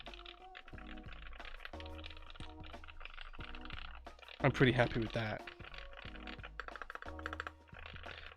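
Typing on a Matrix Labs ME TKL mechanical keyboard with tactile switches, GMK keycaps and foam fill, a soft, muted clatter of steady keystrokes up close, with someone briefly speaking partway through.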